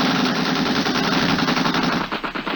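Radio-drama machine gun fire from a launch at sea: a dense, rapid, continuous burst of rattling shots, loud and close, with no talking.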